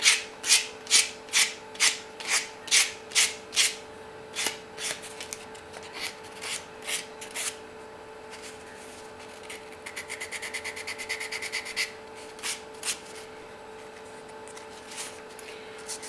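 Sandpaper rubs against a flamed maple guitar pick in steady back-and-forth strokes, close and crisp at first, then slowing and fading, followed by a quick burst of faster, lighter scrubbing.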